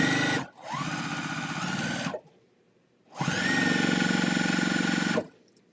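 A domestic sewing machine stitching in two steady bursts, the motor's whir and rapid needle clatter running about two seconds, pausing briefly, then running another two seconds, close and clear with no talking.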